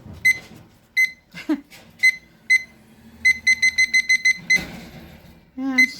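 A kitchen timer sounds a run of sharp, high electronic beeps in irregular bursts, single and clustered, close and loud, with faint handling noises between them.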